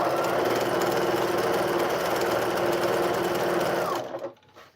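A sewing machine stitches a quilted table runner made from charm packs, running in one loud, steady, rapid whir for about four seconds before stopping abruptly.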